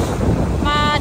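Wind gusts over a rocky seashore at Yomitan, Okinawa, a steady broadband rush blowing across the microphone, with a brief whistling tone near the end.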